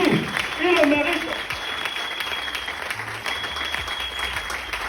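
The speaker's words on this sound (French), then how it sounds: "On applaudit très fort pour lui." An audience at a business affiliation presentation applauds loudly and steadily, while a speaker's voice cuts in over the clapping at the start.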